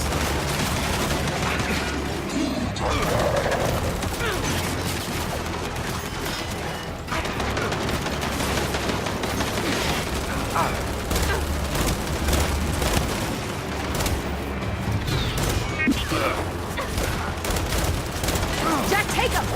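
Gears 5 combat with enemy turrets firing in dense, continuous bursts, gunfire rattling and booming nonstop alongside shouted character dialogue and mechanical clatter, loud and close throughout.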